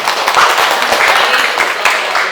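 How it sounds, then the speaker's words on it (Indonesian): Students in a classroom applaud a classmate with quick, loud, closely spaced claps from many hands, a lively dense patter lasting a couple of seconds. "Tepuk tangan buat Teddy boleh."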